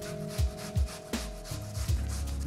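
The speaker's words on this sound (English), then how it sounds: "I'm just going to grate it on the one that I do my cheese on." Zucchini grated by hand on a box cheese grater: a few quick rasping strokes, each a short scraping burst, repeated in an uneven rhythm close by with a faint hum underneath.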